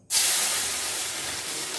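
Water poured into a hot pan for Bengali green mango tok bursts into a sudden loud hiss of steam and spray, then settles into a sustained, slowly fading sizzle nearby.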